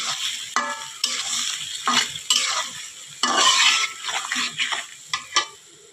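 Potatoes and vegetables are stir-fried in spice paste, with repeated spatula scrapes and knocks against the pan over a crackling sizzle, in an irregular rhythm, close and clear.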